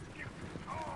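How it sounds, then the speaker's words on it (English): Horse hooves clip-clop in Red Dead Redemption 2, a rhythmic series of soft thuds on the ground, partly mixed with faint voices over a steady game background. "О, лошадь."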